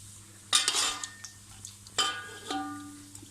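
Korma served with a metal serving spoon into a dish, giving a few clinks and scrapes of cutlery against the dish, close and fairly quiet, with no talking.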